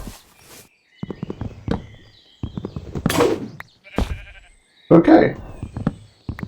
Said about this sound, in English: Did I just see a sheep eating grass?